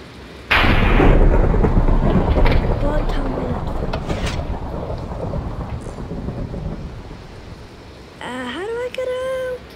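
Heavy rain and a sudden loud thunderclap in a TNT run video game; the crack rolls into a long rumble over steady pouring rain, with a voice speaking briefly near the end.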